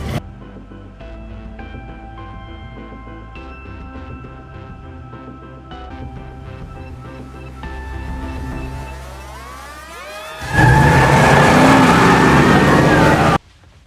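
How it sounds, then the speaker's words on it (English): Race car engines rev and roar over a steady musical backdrop, swelling into a loud, dense burst of racing engine noise near the end before cutting off. "Engines warm and ready."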